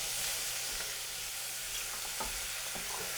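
Butter sizzles in a pan as mushroom risotto is stirred, a dense, even hiss with faint spoon scrapes and soft knocks underneath.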